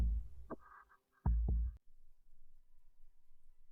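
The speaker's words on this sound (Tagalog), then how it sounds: "Bakit ang bilis ng tibok ng puso ko?" A few deep, thudding heartbeat pulses sound close and loud in quick succession, then fade into near silence.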